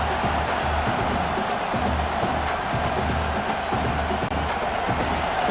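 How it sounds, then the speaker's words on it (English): A home stadium crowd in a college football video game simulation, Alabama against Oklahoma, roars in a steady, dense wash of cheering noise at moderate level throughout, with no clear commentary over it. "this home crowd is fired up and ready to make a difference today"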